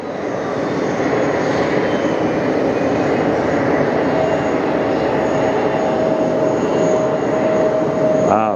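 A jet airliner takes off at JFK airport in New York, its engine roar steady and loud throughout with a rising whine building near the end, heard from a distance with no talk.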